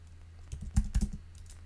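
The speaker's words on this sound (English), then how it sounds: "Type in the node command if you have it installed." Several quick keystrokes on a computer keyboard as a command is typed into a terminal, a short burst of clicks close by with no talking.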